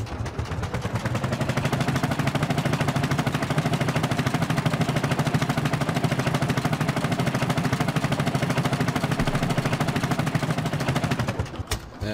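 An Ursus tractor engine in Farming Simulator runs steadily, a loud, rapid, even chugging thump like a steam locomotive, held unbroken for about eleven seconds before cutting off.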